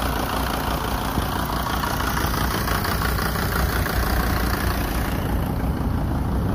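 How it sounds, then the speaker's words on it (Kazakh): A 1985 car with a 2.9-litre engine idles steadily, a continuous even rumble held close and loud throughout, with no voices over it. "Моторун көрдүңүздөр."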